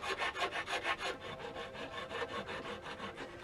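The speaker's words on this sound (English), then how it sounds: "Do that a little bit with a rat tail." A rat tail file rasps back and forth on cut metal of a Honda CB500X motorcycle tail section, quick rhythmic strokes close up, steady and moderately loud with no voices.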